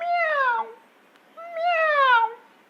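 A human voice imitates a cat's meow twice, two drawn-out, falling meows separated by a short pause, clear and close.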